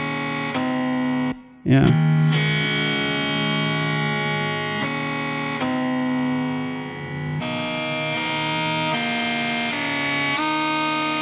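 A distorted electric guitar plays a lick from Stevie Ray Vaughan's Scuttle Buttin', with a quick slide up into sustained, ringing notes. A brief pause comes early and a single short spoken word is heard.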